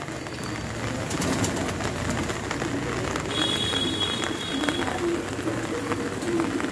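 Tonk pigeons coo softly and repeatedly close by, the calls mixed in with people talking over them.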